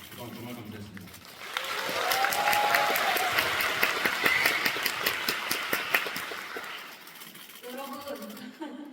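Theater audience applauding at the closing-night curtain call of Angels in America, a swell of dense clapping that builds, holds, then fades, with a performer speaking before and after it.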